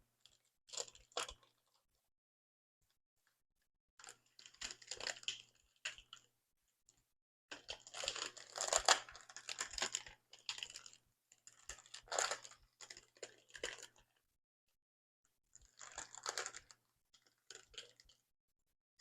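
Parchment paper crinkles and rustles under a heat press while iron-on vinyl is pressed, coming in several short bursts of crisp crackling separated by pauses, fairly close and moderately loud.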